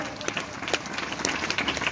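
A sermon audience claps together, a dense patter of many hands close by, brief and steady, with a voice speaking over it.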